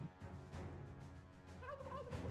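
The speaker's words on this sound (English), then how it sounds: "It's the turkeys." Turkeys gobbling in the dungeon strategy game Dungeons 3, a faint, quiet burble of warbling calls over low ambient game music, the gobbles rising near the end.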